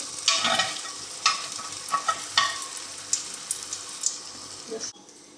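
Nargisi egg kofta, egg wrapped in a round meat coating, dropped into hot oil: a close bright sizzle with bursts of spattering and a few stirring knocks, fading toward the end, with a voice speaking briefly alongside.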